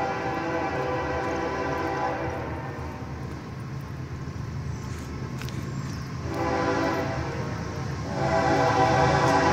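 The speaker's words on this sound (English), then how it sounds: "and we got another train" A BNSF freight train, locomotive 6845, rumbles steadily past nearby in Altamont, Illinois, loud and continuous, with horn blasts sounding over the rolling rail noise.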